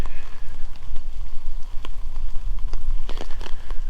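Rain falls steadily outdoors in Brisbane as ex-Cyclone Alfred brings river flooding, a dense continuous patter and hiss with scattered sharper drops tapping nearby surfaces throughout.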